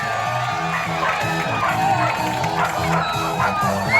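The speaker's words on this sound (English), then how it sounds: "Cheer him on." An audience at a fall fair cheers and shouts steadily for a jumping dog during a SuperDogs show, a dense, continuous roar of voices with whoops rising and falling throughout.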